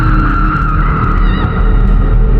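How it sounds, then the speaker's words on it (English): A car's tires squeal and skid under hard braking, a sustained loud screech with steady engine and road noise beneath, close and continuous without a break. "I brought the car to a quick halt by slamming on the brakes"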